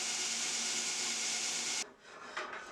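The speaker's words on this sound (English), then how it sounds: "I'm using a 120 grit belt, not taking off a lot of material, just really a few passes just to remove the blowout on the back side of that" A belt grinder running a 120 grit belt across a knife blade to clean up blowout behind the maker's mark: a loud, steady abrasive rasp that cuts off abruptly near the end, leaving quieter motor whir.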